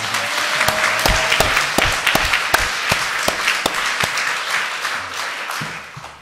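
Church congregation clapping in praise during an Easter service, a dense, steady applause with sharp individual claps standing out, fairly close and sustained throughout, a faint tone briefly underneath.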